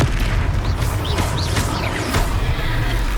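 A Confringo fire spell bursts in a Hogwarts Legacy troll battle, a loud booming blast with crackling pops over a dense, rumbling game soundtrack.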